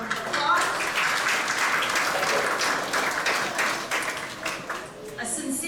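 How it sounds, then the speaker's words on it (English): An audience at a commencement ceremony applauds steadily, a dense wash of clapping from many hands that holds throughout and tapers slightly near the end. "So if we can all give them a round of applause."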